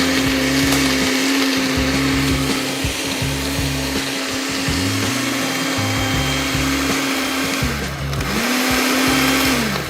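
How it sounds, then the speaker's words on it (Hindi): A blender whirs loud and steady as it blends a vanilla shake with condensed milk, its motor pitch dipping briefly near the end before recovering, with no talking. "सो ब्लेंड किया थोड़ा सा"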